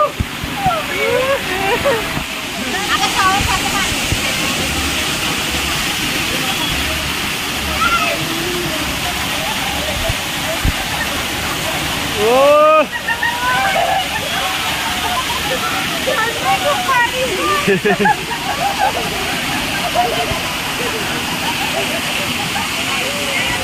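Waterfall at Malshej Ghat in the monsoon, a steady broadband rush of falling water running throughout, with people talking and shouting close by over it.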